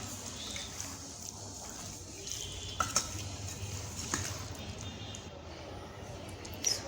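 Snake gourd kootu being stirred in a pan, soft scraping and gentle bubbling with a few light utensil taps against the pan, close and fairly quiet.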